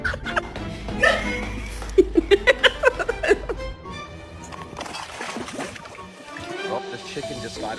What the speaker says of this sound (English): they want to know if you can do a real bark